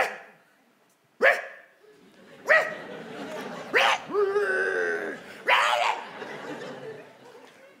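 A dog barks several times close by, sharp single barks with a longer drawn-out yelp, separated by pauses, with some voices mixed in.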